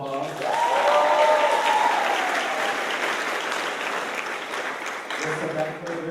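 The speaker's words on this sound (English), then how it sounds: "Give them a round of applause." Audience applause for the Hammond Butler Inspirational Concert Choir after an evening performance, a loud, dense wash of clapping that holds steady for several seconds, with some cheering rising over it early on.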